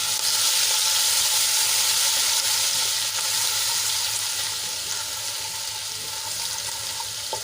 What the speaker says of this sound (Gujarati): અને તેલમાં આપણે એને સરસ રીતે સાંતળી લઈશું।